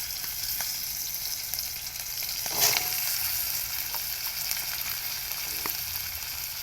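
Potatoes fried in a pan alongside green chillies, giving a steady, moderately quiet sizzle with a brief louder burst partway through, heard close with no voices.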